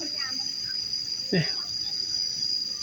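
Insects chirping steadily in the forest at Wat Pha Tak Suea, a Thai hilltop temple with a skywalk: a continuous high shrill drone, faint and unbroken, with a brief low sound in the middle.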